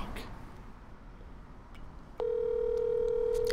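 A telephone call in progress: a short dial-tone burst, then a steady, loud electronic tone holding alone after a quieter stretch of room noise.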